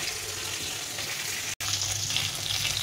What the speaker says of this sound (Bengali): তো বাকি মাছগুলো ভেজে নেবো এইভাবে।